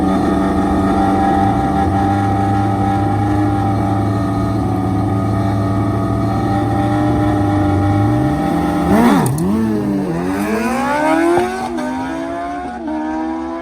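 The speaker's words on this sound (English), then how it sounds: "That Gixxer bogged and stumbled a bit." A Suzuki Gixxer drag racing motorcycle at a drag strip, its engine droning loud and close with a steady high whine, then sputtering, bogging and stumbling as the revs waver up and down near the end.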